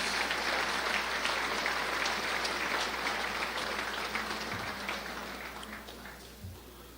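An audience at a State of the City event applauds Longevity Award winners, a full round of clapping from many hands that gradually fades toward the end.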